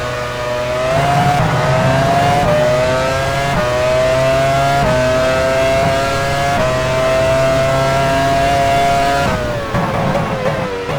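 Formula 1 race car engines at the 2001 British Grand Prix at Silverstone in F1 Challenge 99-02, a loud, high-revving whine holding steady pitch with several shifts and small drops, running continuously throughout.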